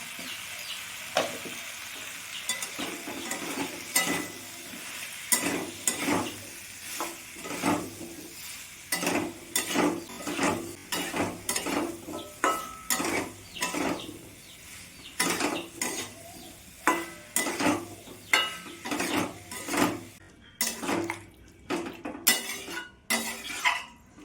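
Potatoes, chopped tomatoes and salt frying in a pan for aloo dum, with a spatula repeatedly scraping and clattering against the pan over a constant sizzle, close and rhythmic.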